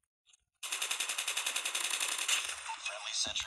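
A sentry gun in Call of Duty Mobile's Attack of the Undead mode opens up in a rapid, loud, sustained automatic burst of nearly three seconds after a short quiet lead-in.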